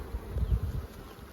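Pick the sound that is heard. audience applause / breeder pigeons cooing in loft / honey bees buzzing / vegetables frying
honey bees buzzing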